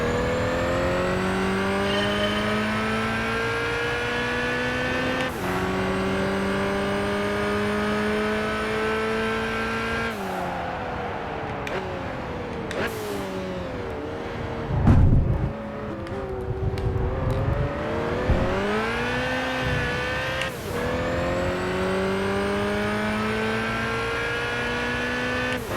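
Race cars in Gran Turismo 5, including a Ferrari Enzo, roar along a track with sustained engine drone and rising, shifting revs, a brief harsh burst midway, and no talking.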